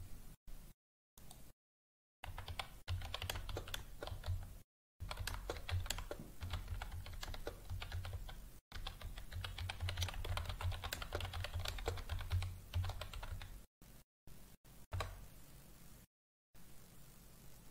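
Rapid, uneven clicking of a computer keyboard as a prompt is typed, close and fairly quiet, in several bursts separated by short silent gaps, with no talking.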